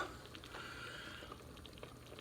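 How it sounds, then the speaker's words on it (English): Meat boiling in a covered pot for a low-carb soup, a steady soft bubbling and gurgling that runs evenly throughout, fairly faint, with no talking. "the meat is boiling good"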